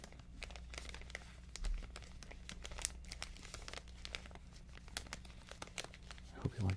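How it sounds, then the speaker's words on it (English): Close, steady crinkling and crumpling of a plastic or foil wrapper during a live stream, dense crackles running throughout with a few louder bursts near the end, no talking. "I hope you like crinkling, because that's what I'm going to be doing for most of the rest of the show."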